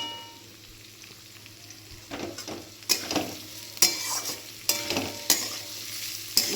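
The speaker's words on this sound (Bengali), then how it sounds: "এই পেঁয়াজটা দিয়ে ভালো করে ভাজবো।" Onions fry in oil in a pan while being stirred, a soft sizzle underneath with sharp scraping clatters of the spoon growing louder and more frequent toward the end.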